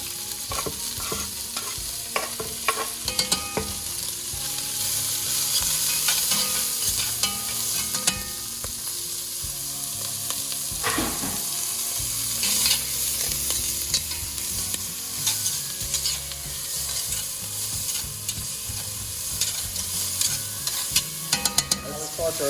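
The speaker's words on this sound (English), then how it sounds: "So I'm going to just add our vegetables to the pot there." Vegetables and garlic sauté in a pot, giving a steady close sizzle broken by frequent scraping, clicking stirs throughout, with no talking.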